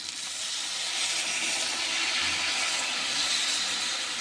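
Steady loud hiss and sizzle of water poured into a hot pan of cooking taro, a continuous broad steamy rush held close and unbroken for several seconds.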